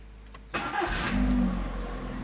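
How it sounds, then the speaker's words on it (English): A Skoda car with a dual mass flywheel engine cranks and fires up at close range, the starter catching abruptly and settling into a steady, low engine rumble. "I'll try to illustrate it with the Skoda. So, when the engine was turned on,"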